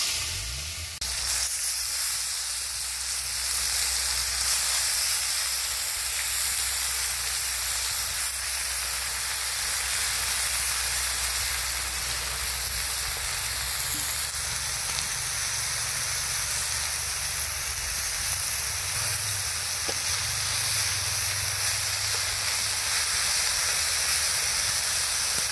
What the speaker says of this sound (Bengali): তেল গরম হয়ে গেছে গা, দিয়ে দিই তেলে এখন মাছ দিয়ে মাখানো বেগুনটা